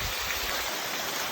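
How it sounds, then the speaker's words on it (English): A waterfall on a cliffside stream along England's South West Coast Path pours in a steady, close, broadband rush of falling water with no break and no voices. "Ian can tell you about this waterfall he's sitting in front of."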